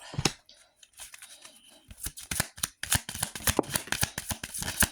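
Tarot cards are riffled and shuffled by hand, with rapid papery flutters and slaps in quick bursts, close and clear, getting busier and more continuous toward the end.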